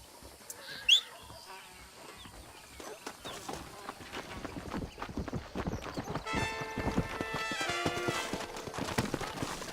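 Steady clip-clop of horse hooves at a trot in the video game Red Dead Redemption, moderately loud, with a brief sharp accent near the start and faint background ambience.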